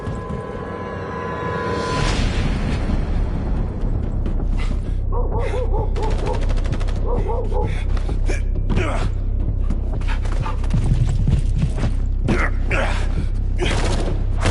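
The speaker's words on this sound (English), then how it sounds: "What's happening? Gunfire." Gunfire erupts in the sci-fi shooter game The First Descendant, bursts of sharp rapid shots crackling through a loud, busy battle mix for most of the clip, with game voices talking over it.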